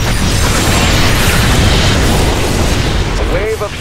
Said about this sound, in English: A wave of shuttles has been shot down.